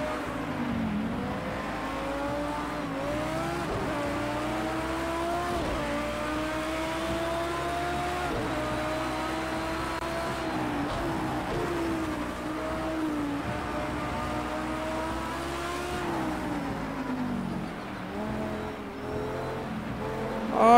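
Race car engine in Project CARS 2 droning steadily at high revs, pitch rising and falling through repeated gear shifts and cornering, loud and continuous for the whole stretch.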